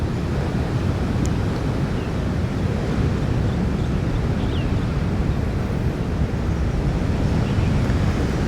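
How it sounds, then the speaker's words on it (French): Rough, strong ocean waves roll and crash continuously along the coast of Réunion, a loud unbroken roar mixed with wind buffeting the microphone. "je ne sais pas si vous voyez les vagues, elles sont hard aujourd'hui, elles sont assez fortes"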